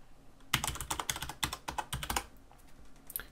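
Fingers type a password on a computer keyboard in quick, irregular bursts of close, crisp key clicks, with a short pause in the middle of the run.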